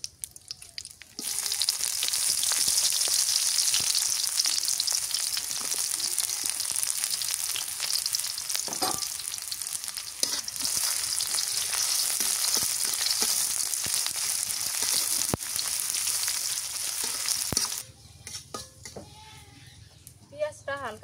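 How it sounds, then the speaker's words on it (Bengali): Chopped onions with bay leaves, cloves and cinnamon fry in oil with a loud, continuous close-up sizzle dotted with crackles and pops, cutting off abruptly shortly before the end. "পেঁয়াজটা হালকা করে ভেজে নিলাম।"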